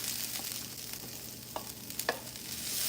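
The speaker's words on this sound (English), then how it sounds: "Garlic's starting to get a tiny bit brown, which is perfect" Garlic frying in a pan gives a faint, steady sizzle, broken by a few soft clicks of stirring.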